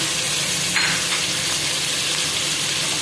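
Steady, close sizzling of garlic-ginger paste and tomatoes frying in hot oil, a constant crackling hiss with a few brief spattering bursts.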